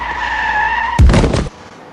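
A car's tires squeal loudly in a short skid that ends abruptly, following a steady tonal hum.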